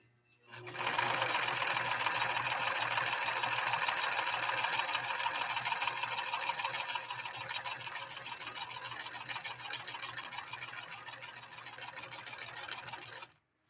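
A White Model 742 sewing machine runs a blind hem stitch in one long, steady, close burst of rapid stitching, starting and stopping cleanly with no talk over it.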